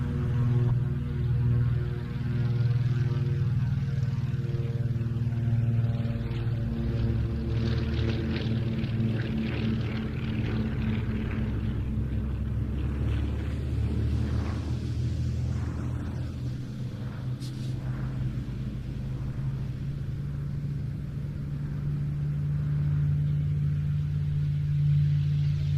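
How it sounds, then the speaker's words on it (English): Lockheed 12A Electra Junior twin piston engines droning steadily as it begins its takeoff roll at an airfield flying day, with a Supermarine Spitfire PR-11 following; a continuous loud engine hum with shifting tones, no speech. "That aircraft is Fighter Aviation Engineering's Lockheed 12A Electra Junior. That's starting its takeoff roll now"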